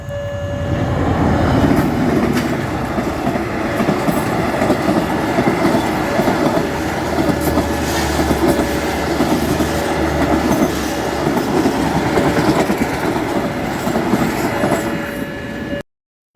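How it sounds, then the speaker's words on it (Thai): A Japanese-made train passing on the line in Thailand, a loud continuous rumble with rhythmic wheel clatter and a steady tonal hum, close by and lasting throughout without talk. "โอ้รถไฟญี่ปุ่นด้วย"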